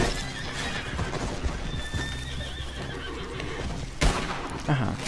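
Horse neighing and clip-clopping hooves in the video game Red Dead Online, a whinny rising over steady hoof beats with a couple of sharper thumps near the end, all fairly close and continuous.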